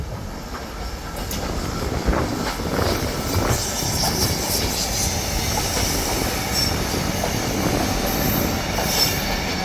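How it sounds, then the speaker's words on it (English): A Tesco goods train rolls through Ardwick Station, its wagons rumbling past close by with squealing wheels and rhythmic clatter over the rails, joined by wind buffeting the microphone, continuous for the whole stretch. "Tesco goods train."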